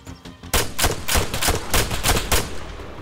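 Rapid gunfire in the ARMA 3 Epoch video game, a sudden burst of loud close shots in quick irregular succession after a short quiet start, continuing to the end.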